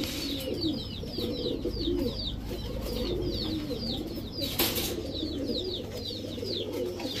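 Pigeons cooing repeatedly in a loft of fancy breeds, soft rolling coos overlapping in a close, steady rhythm with a brief flutter or knock midway.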